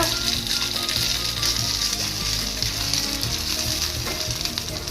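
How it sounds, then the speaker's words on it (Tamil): Paneer pieces fry in oil in a pan, giving a steady, close, loud sizzle that runs unbroken throughout with a faint scrape or stir now and then. "இதுவும் இப்படி அமுக்குங்க, அப்போ நல்லா ஃப்ரை ஆகிடும்."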